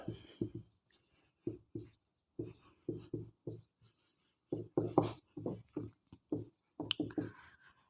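A maths statement is written by hand, probably chalk or marker on a board, in short rhythmic scratching strokes separated by pauses, close and fairly quiet, with no talking.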